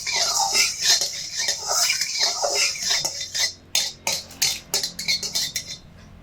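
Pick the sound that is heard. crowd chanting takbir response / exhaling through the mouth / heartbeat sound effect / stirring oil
stirring oil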